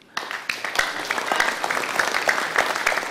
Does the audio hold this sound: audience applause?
yes